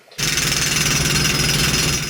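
Jackhammer breaking asphalt during roadside repair work on a city street, a loud, continuous rapid pounding that starts abruptly and hammers steadily without pause.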